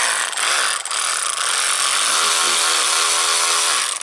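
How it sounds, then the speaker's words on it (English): A Matco Infinium MCL1638RA 16-volt cordless 3/8-inch drive high-speed ratchet runs continuously for about four seconds, a steady loud motor whir with slight pitch shifts as the trigger varies speed. "It's a 16-volt Infinium Matco high-speed ratchet 3/8 drive."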